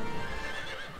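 Horse neighing in the video game Lego Lord of the Rings, a continuous whinny lasting about a second with dense game ambience behind it and no talk over it.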